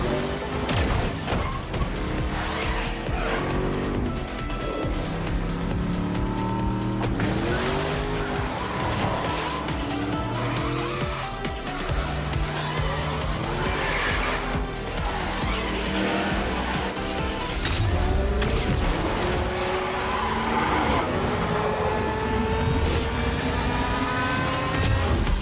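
Racing cars in a video game trailer, engines revving and shifting through gears with tire squeals, skids and a crash, loud and continuous throughout with background music.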